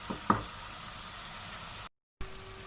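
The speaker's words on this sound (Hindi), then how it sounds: "अब इसको अच्छे से भूनेंगे ताकि जो हमारा थोड़ा सा पानी की कसर रह भी गई है वो निकल जाए" Grated carrots fry in ghee in a pan for gajrela, giving a steady sizzle broken by a couple of knocks of a spoon. The sound cuts out briefly, then the frying resumes.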